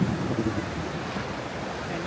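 Surf washing steadily onto Kata Beach, a continuous broadband roar of breaking waves with some wind on the microphone, with no talk.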